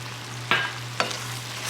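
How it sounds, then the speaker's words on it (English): A frying pan of food at a home dinner stove gives a low steady sizzle, broken by two quick close scrapes of a spoon stirring, with no voices. "Stir, stir."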